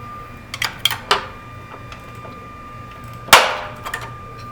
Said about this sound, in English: And then we take our torque wrench and torque this nut to 147 foot-pounds.